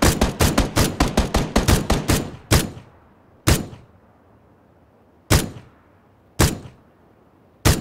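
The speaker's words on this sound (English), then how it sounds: "Got a couple of shots on him." Gunfire in the video game PUBG: a fast burst of about a dozen sharp, loud shots, then four single heavier reports spaced a second or more apart, each with a short ringing tail.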